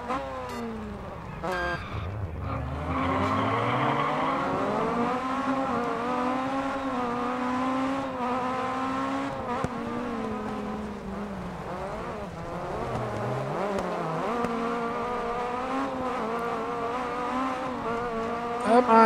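Mini rally car in the DiRT Rally video game, its engine note rising and falling steadily through gear changes, with game music or effects layered over the continuous drone.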